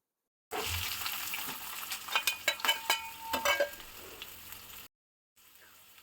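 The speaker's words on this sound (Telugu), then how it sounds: "ఆనియన్స్ మంచిగా ఫ్రై చేసుకోవాలి" Chopped onions frying in hot oil in a home kitchen while prawn curry is being made, a steady close sizzle with a burst of sharp crackles and stirring scrapes in the middle, then a pause.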